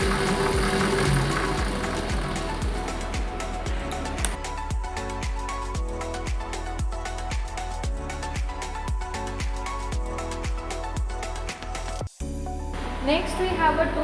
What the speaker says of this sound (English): So this vehicle is now running with the help of battery.